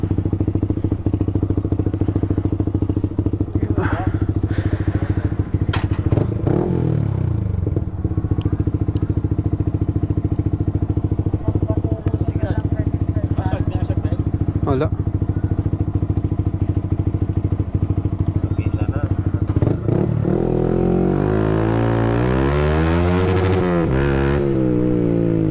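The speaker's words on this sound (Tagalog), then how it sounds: "So tinetest natin yung motor ngayon." A motorcycle engine idles loud and close through a test run, a steady low drone with scattered clicks and thuds, then rises into revving near the end.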